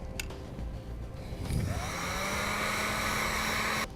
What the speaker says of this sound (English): Now we'll use a heat gun and we'll shrink down our terminals.